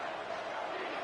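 A football stadium crowd at an Ohio State game roars in a dense, sustained wash of cheering that fills the whole moment without pause.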